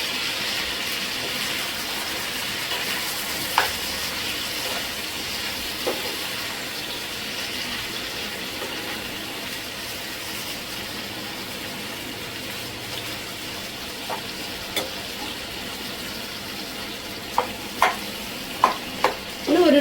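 Chicken pieces sizzle steadily in a hot pan while being turned, with a constant frying hiss broken by occasional clicks and utensil taps that bunch together toward the end.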